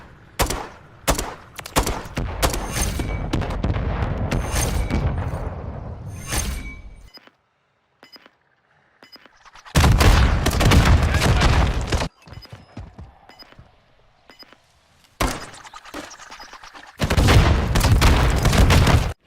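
Bursts of rapid gunfire from Modern Warfare III on the Estate map, loud and close, coming in several dense volleys broken by quieter gaps with distant shots and faint ambient noise.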